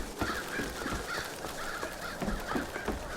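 Crows in Bioshock Infinite caw repeatedly in rough, steady bursts above a dense, noisy game background. No speech is heard.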